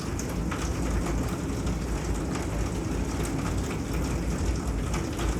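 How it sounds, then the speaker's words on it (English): Heavy rain falls on a sunroom as a dense, continuous hiss with no pauses, filling the whole stretch evenly and loudly. "I think falling asleep to rain is peaceful, but it might be a little too loud in here."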